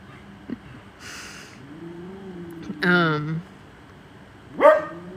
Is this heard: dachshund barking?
yes